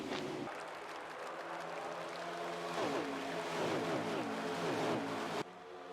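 Stock cars racing at Texas Motor Speedway in NASCAR Heat 5 roar steadily throughout, with a dense engine drone and rising and falling tones as cars pass, ending in an abrupt drop near the end.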